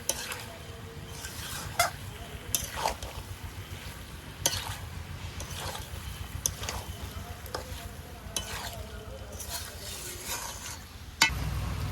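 Jackfruit and potatoes stirred in a cooking pan for a curry, a soft sizzle beneath repeated scraping and knocking of a spatula against the metal, with a low rumble near the end.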